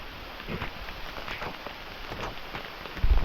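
Rain falls in a soft, steady patter with scattered drops tapping nearby surfaces, a low dull thump at the very end.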